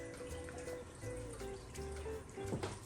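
A Gardyn Home 4.0 indoor hydroponic system runs its water cycle, giving a steady, moderately loud trickle and splash of flowing water over a low hum, continuous throughout.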